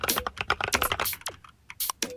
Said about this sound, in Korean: 지금 키보드 제가 누르는 대로 인식을 하네요.